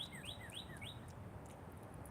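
A small bird gives a quick series of four or five bright, rising chirps in the first second, then sparse faint notes trail off over a quiet, hissy background.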